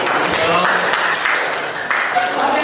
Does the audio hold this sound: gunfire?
no